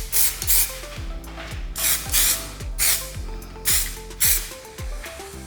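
Spray paint hisses onto custom car speaker grills in short repeated bursts, each with a clicking rattle of the can between sprays, close by and with nobody talking.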